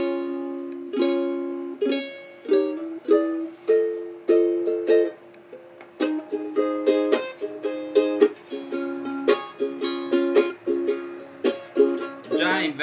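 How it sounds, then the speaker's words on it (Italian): Hawaiian song played on ukulele: bright plucked strummed chords and single notes ring out in a steady, lilting rhythm, fairly close and clear with no talking over it. "ma sicuramente questo è il suono dell'ukulele."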